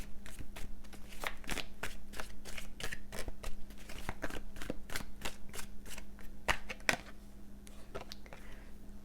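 Tea leaf oracle cards are being shuffled by hand, a steady run of crisp riffling snaps and slides of card stock, close and clear with no talking.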